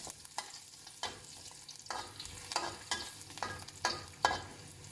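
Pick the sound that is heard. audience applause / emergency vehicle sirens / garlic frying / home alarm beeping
garlic frying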